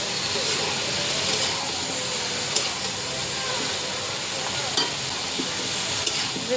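Steady sizzle and hiss of eggplant, pointed gourd and potato curry frying in oil while being stirred and sautéed in a pan, continuous and close with occasional clinks.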